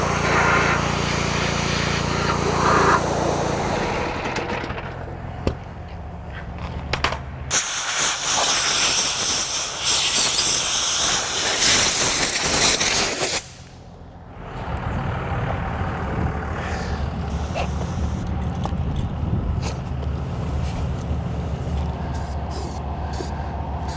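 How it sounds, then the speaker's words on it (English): A pressure washer sprays loudly outdoors, blasting degreaser off a stripped Honda Pilot subframe, a steady hissing roar with shifts in intensity as the spray moves, including one brief dip. "I'm gonna take it outside, soak it with some degreaser, and then, well, we'll pressure wash it."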